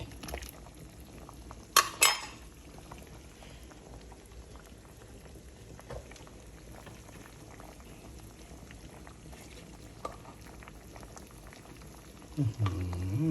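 A full pot of southern Thai fish curry with added coconut milk bubbles steadily at a gentle boil, with a few metallic clinks of a ladle or utensil against the pot and faint movement nearby.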